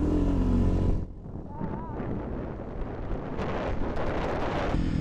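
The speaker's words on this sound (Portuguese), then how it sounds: "Nossa, barulho de vento" Loud buffeting wind noise rumbles against the microphone after a brief louder opening, steady and broadband throughout.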